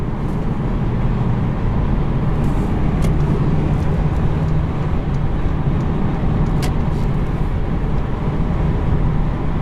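A 2018 Mercedes-Benz CLA250 cruises on the highway at about 74 mph and just over 2,000 RPM, heard from inside the cabin as a loud, steady low engine and road drone with tyre and wind noise throughout.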